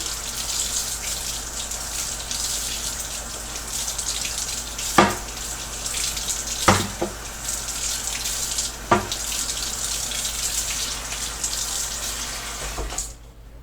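Cold tap water runs steadily over a PVC bow blank, a continuous close hiss and splash with a few sharp knocks or clunks against the blank.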